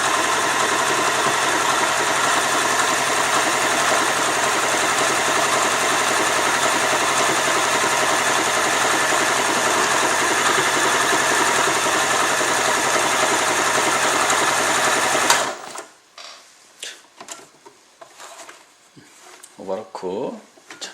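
An Elna sewing machine stitches continuously with an overlock presser foot, a fast steady mechanical whir for about fifteen seconds that stops abruptly, followed by quieter handling clicks and rustles.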